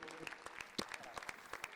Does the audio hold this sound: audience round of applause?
yes